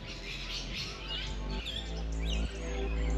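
Birds call in a native Australian park setting in the Grampians, their faint, scattered chirps sitting within steady outdoor background noise.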